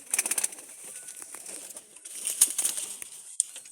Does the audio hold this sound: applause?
no